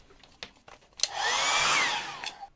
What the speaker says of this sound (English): And again, dry that with my hairdryer.